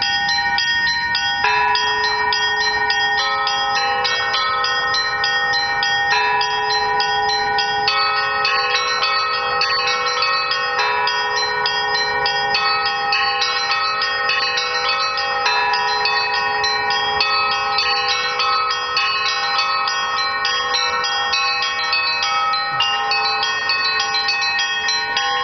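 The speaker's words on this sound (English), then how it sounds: "There's a bell ringer here." Monastery church bells in Yaroslavl, Russia, rung by hand by a bell ringer, a dense, continuous peal of layered bright strikes over a sustained deep hum, loud and steady throughout with no voices.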